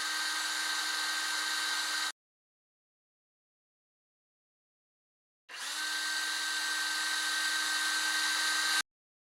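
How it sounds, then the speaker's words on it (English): A 3/16 inch bit drills through a paper template into a mounting surface while a bike storage rack is installed: two steady, high-pitched whirring power-drill bursts, about two and three seconds long, separated by a silent pause, close and loud. "With a 3/16" drill bit, drill through the template at the 2 marked installation screw locations."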